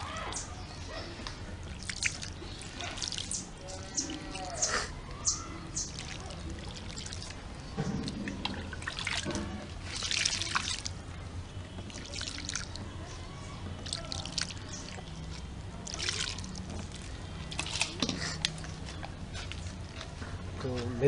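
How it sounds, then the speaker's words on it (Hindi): Water is poured into the soil of a potted air-layered plant, with trickling and dripping that run on and off for about twenty seconds while someone talks over it. "अब इसमें पानी डालूंगा ताकि इसकी एयर बबल जो है निकल जाए"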